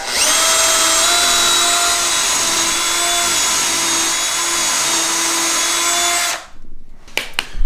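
A power drill whines steadily for several seconds while boring pocket holes into wooden boards guided by a blue pocket-hole jig, then winds down abruptly, followed by a few light clicks and knocks.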